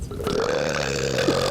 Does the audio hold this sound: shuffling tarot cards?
no